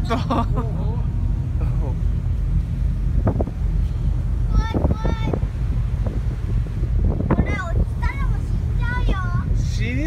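Steady wind buffets the open deck of a Marix Line ferry, roaring continuously close to the microphone, with a voice speaking intermittently over the gusts and a faint engine and water rumble underneath.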